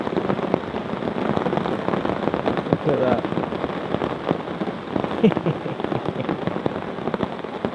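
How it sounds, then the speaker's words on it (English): Steady rain drums on a tarp shelter out on Dartmoor in August, a dense, close patter that never lets up, while someone speaks briefly over it. "Just hear the rain coming."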